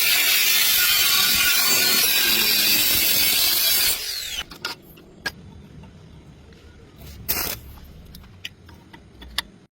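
A 90-degree cutting tool bites into metal with a harsh, loud grinding screech for about four seconds, then stops, leaving quieter scattered clicks and knocks of handling.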